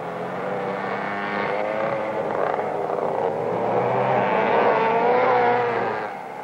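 Small early-1960s McCulloch racing karts roar around a track together, their engines holding a steady, loud buzzing drone that swells and falls slightly as they pass through the corners.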